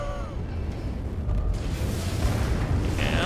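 Artillery fire in the MechWarrior 5: Mercenaries video game, heard as a continuous rumbling blast and roar with a brighter burst near the end, moderately loud and sustained.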